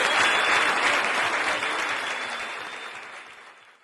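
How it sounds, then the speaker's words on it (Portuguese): A church congregation at a youth service claps in a dense burst of applause that fades steadily over a few seconds. "pode aplaudir sim"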